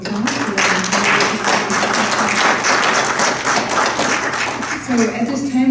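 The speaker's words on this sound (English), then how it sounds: "giving our speakers another round of applause" An audience at a talk on Catholic approaches to the apparel industry gives the speakers a round of applause, a loud, steady patter of many hands with a voice breaking in near the end.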